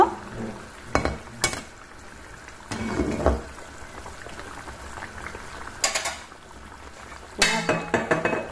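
A simmering Assamese fish curry with potato and cumin gets stirred in a pot, a low bubbling boil broken by several sharp clinks and scrapes of a spoon against metal, with no talk.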